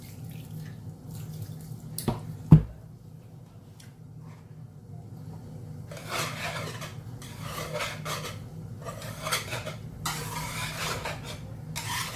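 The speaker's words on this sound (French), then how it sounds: "Je vais rajouter un petit peu d'eau encore." Water is added to steamed couscous, making soft splashing and pouring in bursts, with a sharp clink of a utensil or dish early on, close and fairly quiet.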